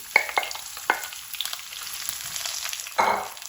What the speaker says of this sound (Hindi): हम कलेजी डाल देंगे कि जीरे के साथ ही इसकी भी भुनाई हो जाए